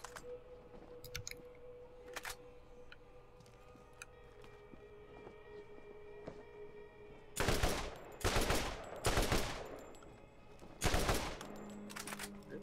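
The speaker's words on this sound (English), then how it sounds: "Let's shoot it a little bit." A burst-fire rifle in the video game Borderlands fires several short, loud volleys of rapid shots in the latter half, after a stretch of quiet game ambience with faint tones.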